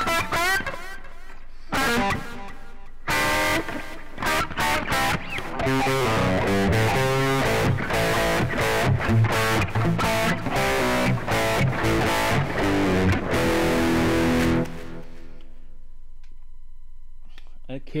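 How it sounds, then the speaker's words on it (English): Electric guitar played through a high-gain distortion pedal into plate reverb, with crunchy, saturated chords and single notes ringing out in bursts, pausing, then trailing off into a reverb tail near the end. "run like a high gain distortion pedal through this with just the plate amp"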